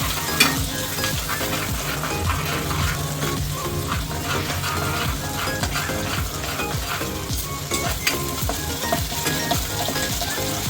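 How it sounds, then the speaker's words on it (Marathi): Ginger garlic paste cooks in a pan for dal makhani, a steady crackling sizzle broken by repeated spoon scrapes and clinks against the pan, close and continuous without talk. "ती चांगली शिजून घेणार आहोत आपण पेस्ट आपली."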